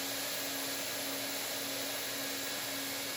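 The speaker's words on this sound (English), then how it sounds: "And this is just a cheapy electric welder for any flooring or any plastic projects" A cheap electric hot-air plastic welder for flooring and plastic work runs at about 600 to 650 degrees, giving a constant, even blowing hiss with a steady whine, unbroken and close, with no voices.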